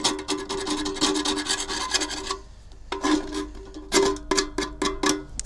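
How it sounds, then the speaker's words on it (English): A metal hive tool scrapes built-up creosote from the edges of a bee smoker, giving repeated rasping strokes close by: a steady run of scraping, a short pause, then several sharper separate scrapes. "Just scrape that off."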